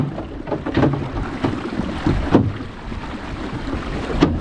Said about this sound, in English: the wind is everywhere because it's coming from back behind us